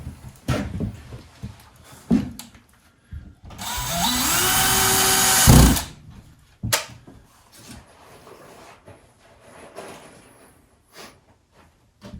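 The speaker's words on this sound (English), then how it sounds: "the drill gets over anxious and drives the screw a little bit too deep, cracks the paper" A power drill drives screws into drywall panels on a mobile home wall, a two-second whining burst of the motor rising in pitch, preceded and followed by scattered knocks and handling clatter, fairly close and loud.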